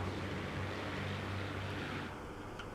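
A fighter plane in flight in the World War II air-combat game Scramble: Battle of Britain, a continuous droning engine hum with steady low tones, moderately loud and unbroken, with no voices.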